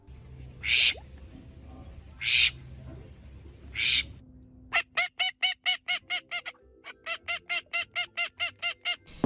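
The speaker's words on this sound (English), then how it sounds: "male and female ducks sound different." Ducks quacking, male and female in turn: three raspy, drawn-out calls spaced apart, then a fast series of short, sharp quacks broken by one brief pause, loud and close.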